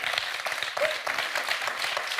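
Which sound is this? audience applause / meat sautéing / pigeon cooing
audience applause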